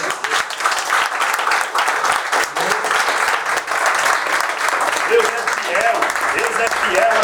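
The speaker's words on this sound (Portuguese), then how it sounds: "Pode aplaudir Jesus." A Pentecostal church congregation at a deliverance service applauds for Jesus, loud sustained clapping from many hands filling the room while voices call out and talk over it.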